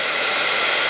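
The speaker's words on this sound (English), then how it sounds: "heat gun" Small handheld heat gun blowing hot air to dry paint on a polymer clay bird, a steady, loud whooshing roar with no talk.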